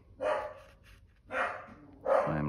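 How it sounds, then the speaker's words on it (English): A pet dog barks from inside the house at someone walking a dog past the front window, giving three separate barks spaced about a second apart, close and moderately loud. "That's our dog barking."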